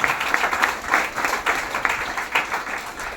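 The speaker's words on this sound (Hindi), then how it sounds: "उनका नाम है दीवा देवी और नीता देवी, उनके नाम से ना एक जबरदस्त ताली होनी चाहिए।" Audience clapping for two guests at a gathering, a dense, steady patter that swells in periodic bursts and stays fairly close, with no one speaking.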